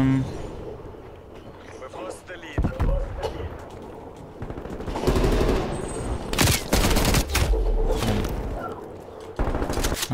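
M60 machine gun fire from the hip in a first-person shooter video game, loud dense bursts of rapid shots with explosions and game effects, mixed under a player's talk.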